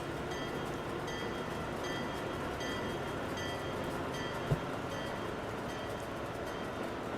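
A freight train in the Transport Fever 2 video game rolls along with a steady, continuous rumble and faint rhythmic clatter, loud and unbroken throughout, with one brief thump near the end.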